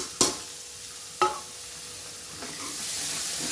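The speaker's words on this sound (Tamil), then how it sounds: "இப்போ வந்து நல்லா ஒரு தாளிப்பு கொடுத்துடலாம்." Tempering spices sizzle in hot oil for a tomato rasam, two sharp crackling bursts as ingredients hit the pan, followed by a steady frying hiss that swells toward the end, with no voices.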